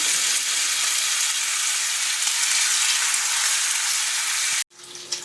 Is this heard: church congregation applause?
no